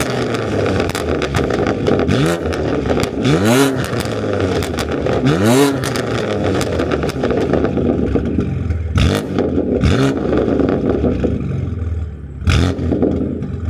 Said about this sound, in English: I'm just gonna set up the camera here real quick and give you guys a few revs from the outside